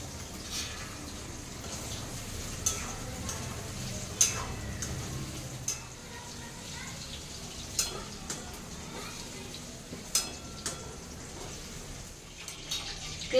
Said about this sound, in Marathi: थोडा वेळ तळू द्यायचंय, 5-10 मिनिटापर्यंत चांगलं.